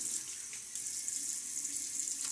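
Tap water runs steadily into a sink during a wet shave, a constant close hiss with no talk over it.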